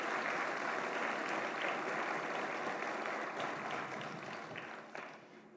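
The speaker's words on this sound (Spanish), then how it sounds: "Dale un fuerte aplauso al Señor." A church congregation applauds during a sermon, broad sustained clapping that holds steady for several seconds and then thins and fades toward the end, fairly distant.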